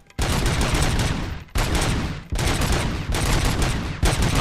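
Sustained full-auto gunfire in RoboCop: Rogue City, loud and close, in long continuous bursts with brief breaks between them.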